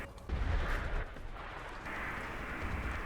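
A heavy grenade explosion in the video game Enlisted booms and rumbles, followed by a sustained roar of blasts and rumbling gunfire-like noise.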